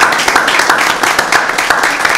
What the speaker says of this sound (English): I think Danielle deserves a hand, guys, for what she's done.